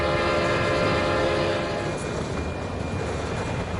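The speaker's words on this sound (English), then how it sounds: "I see, that's the train." A train rolls past on a video game map, a steady loud rumble with sustained horn-like tones that fade partway through, with no talking.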